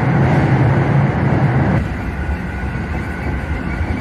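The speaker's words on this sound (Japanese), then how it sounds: "笹塚駅の手前で列車は高架に上がってきます。" Coupled 7805F and 7709F train sets run toward Sasazuka station as they climb onto the viaduct. A steady, close rumble of wheels and motors is heard alone and eases slightly partway through.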